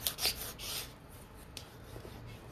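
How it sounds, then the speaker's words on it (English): A Prima transfer being rubbed onto a mirror, giving soft, close scratchy rubbing strokes that are faint and brief, strongest in the first second and then trailing off into quiet. "once you've rubbed it on pretty good, you can pick a corner and you're gonna slowly pull it up"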